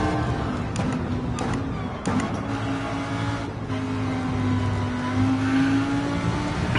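A race car engine holds full throttle in fifth gear in Gran Turismo 7, a steady loud droning whine that climbs slightly in pitch, with a few brief clicks and bumps along the way.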